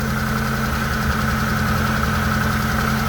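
A Mitsubishi Lancer GLXi engine idles roughly and close by, with a low, uneven throb from a wiring short in the injector signal output running through the whole stretch and no voices.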